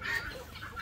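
Small chickens cluck briefly and close by, a soft, short burst of bird sound with no talk over it.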